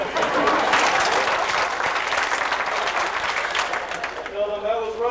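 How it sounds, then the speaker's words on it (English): Church congregation at a groundbreaking ceremony clapping after a sermon, a sustained patter of many hands applauding, with voices talking over it throughout. "if this side could start clapping a little bit"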